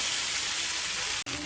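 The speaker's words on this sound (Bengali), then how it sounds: "এবার নেড়ে চেড়ে আস্তে আস্তে ভেজে নিতে হবে।" Pitha cakes fry in a pan while being turned slowly, producing a loud, even, close hiss of hot oil that cuts out abruptly for a split second near the end.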